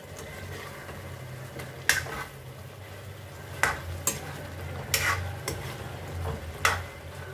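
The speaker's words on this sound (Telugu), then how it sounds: "ఒక 15 మినిట్స్ ఉడకనివ్వండి చాలు. మధ్య మధ్యలో కలుపుతూ ఉండాలి" A spoon stirs chicken gravy curry in a cooking pot, a series of scraping clanks against the metal, about seven spaced strokes, over a soft bubbling simmer close by.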